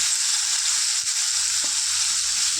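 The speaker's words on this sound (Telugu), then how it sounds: "ఇలా ఫ్రై చేసుకుందాం ఫ్రెండ్స్" Ivy gourd (dondakaya) sizzles steadily in a pan, a dense, even hiss of frying that runs unbroken and close, with a faint stir or clink partway through and no voices.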